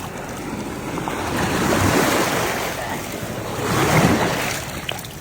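Sea waves surge and wash in two broad swells, with wind rushing over the microphone and a faint voice in the background.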